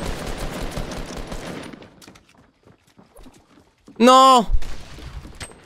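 Gunfire in Fortnite Battle Royale comes as dense rapid bursts at the start, then fades to near silence before a voice calls out loudly and faint clatter returns.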